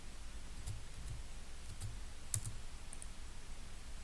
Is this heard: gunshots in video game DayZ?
no